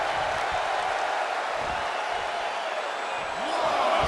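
Arena crowd noise from a WWE 2K24 wrestling match, a steady, loud roar of cheering that swells slightly toward the end, with a commentator's voice over it.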